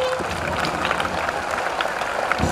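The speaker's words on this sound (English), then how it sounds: "So all of you clap together for the school flag." Audience at a school investiture ceremony clapping together, a steady dense patter of many hands with a distant, roomy quality, sustained throughout.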